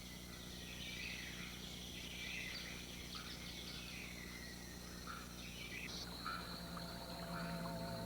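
Frogs calling in a warm, humid Trinidad rainforest, a dense chorus of high chirps and trills layered over a steady background drone, with no talking.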